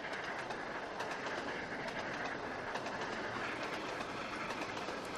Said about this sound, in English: And as you can see, on this route, the train does struggle.